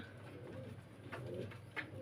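Soft, low coos from fancy pigeons at a pigeon farm repeat a few times close by against a quiet background hum.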